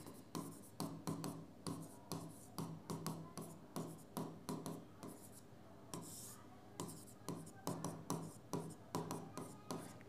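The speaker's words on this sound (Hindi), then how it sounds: "चलो ऐसे ही लिखते हैं जैसे लिखा होता है किताबों में" Chalk or marker writing on a board during a geometry lecture, with steady rhythmic scratchy strokes and taps continuing for several seconds, close and clear, with no talking.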